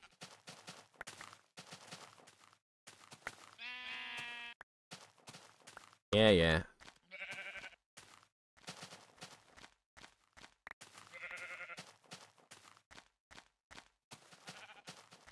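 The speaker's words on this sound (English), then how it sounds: "I gotta hear these sheep." Minecraft sheep bleat in short harmonic bursts, several times over a few seconds, among scattered blocky footsteps and game clicks while someone talks and mutters intermittently.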